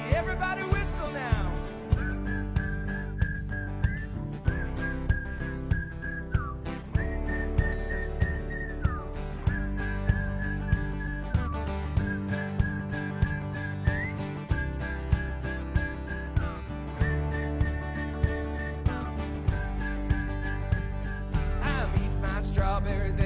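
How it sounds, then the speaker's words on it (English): A crowd whistles a bright melody along with an upbeat, steadily pulsing song at a ministry gathering. The whistled line carries clearly over the band, with no talking. "Everybody whistle now."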